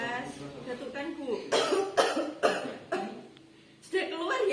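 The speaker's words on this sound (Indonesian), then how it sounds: "Tarik nafas, batukkan Bu." A female patient doing an effective coughing exercise gives several forceful coughs in a row, close and loud, between breaths and a voice giving instructions.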